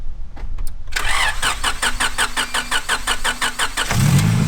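Cranking starter whirs in a fast rhythmic series before a Honda Civic B18 engine catches and fires up into a loud, close running roar, started with a jump pack.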